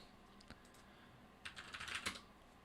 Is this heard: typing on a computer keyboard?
yes